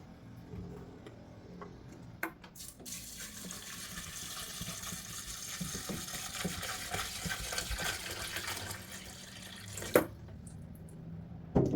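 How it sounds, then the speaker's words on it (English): A steady stream of purified water pours and fills a pot, rushing continuously with a few small knocks at the start and end. "And then I'm going to pour the purified water on it."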